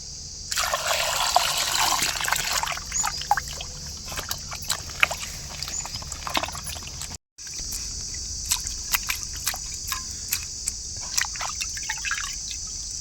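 Vegetables for a chicken biryani, including onions, tomatoes, green chillies and mint, rinsed under a running tap: a steady close splashing hiss of flowing water with small knocks and drips, broken by one brief pause.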